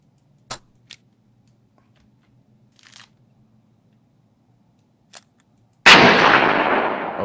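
Gunshots from a gun in a horror video game: a few sharp, isolated cracks spaced seconds apart, then a loud blast that rings out and decays slowly.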